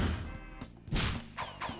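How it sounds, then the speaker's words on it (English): A censored gunshot sound effect from the trivia game You Don't Know Jack, a few sharp whacks and thuddy hits with swishing bursts, brief and moderately loud. "the part where Travolta gets shot sounds like this"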